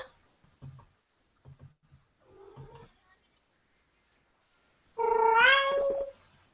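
A cat meows in the anime Sailor Moon Crystal: one clear, drawn-out meow near the end, after a few quiet, scattered sounds.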